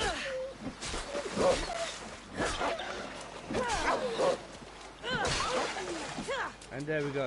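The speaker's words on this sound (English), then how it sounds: "It sounds like a wolf." A wolf in the Assassin's Creed Odyssey video game snarls, yelps and barks in rough, repeated bursts amid combat noise, close and fairly loud across the whole stretch.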